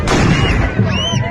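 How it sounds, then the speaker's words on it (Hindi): Rifle fire shot into the air at a wedding celebration in India, heard as loud, close blasts with a boomy, echoing tail and crowd noise underneath. "दो लोगों ने एक के बाद एक हवा में 2 बार गोलियां चलाईं"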